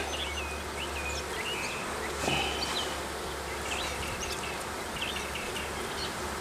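Honeybees hum steadily at an open hive during a beekeeping inspection, a continuous low buzz close by with occasional brief bird chirps in the background.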